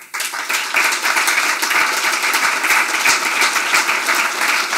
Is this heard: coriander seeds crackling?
no